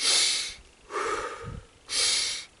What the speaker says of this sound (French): Tu peux faire des inspires forts